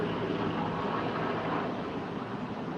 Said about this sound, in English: And now I'm hearing I see this helicopter coming across.